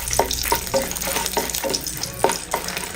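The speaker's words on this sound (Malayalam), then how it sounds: "മീൻ ഫ്രൈ ചെയ്തെടുത്തിട്ട് ബാക്കിയുള്ള എണ്ണയിൽ ഒരു 10 വറ്റൽമുളക് ഇട്ട് ഒന്ന് റോസ്റ്റ് ചെയ്തെടുക്കാം" About ten dried red chillies roast in the oil left over from frying small sardines. A close, steady sizzle is broken by scraping stirs at regular intervals, with no talking.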